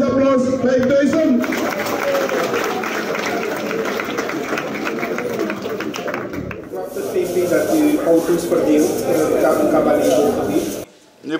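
Sustained applause and crowd noise from a large audience at a car prize draw in Suriname, continuous and fairly loud for about ten seconds, with voices mixed in, then cutting off abruptly.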